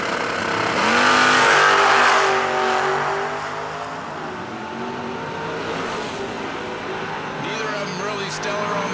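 A GTO and a Fox Body Mustang drag race, their engines roaring loud with a swelling surge of acceleration that fades, while an announcer talks over it.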